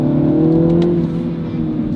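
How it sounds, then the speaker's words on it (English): A 2022 MINI Cooper S in sport mode revs under acceleration, a loud, steady engine drone with layered harmonics held for two seconds, close and continuous with no talk over it. "I'll put my foot on the accelerator."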